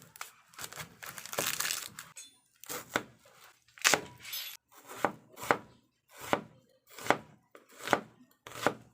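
A knife chops a whole white onion on a board in crisp, close, crunchy strikes, with a looser crinkling stretch at first and then evenly spaced single cuts.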